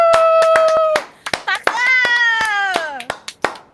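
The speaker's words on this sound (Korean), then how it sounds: "일단 박수 한번 쳐야 돼요" Sharp, rapid claps ring out in irregular bursts, close and loud, mixed with a bright sustained voice-like tone between them.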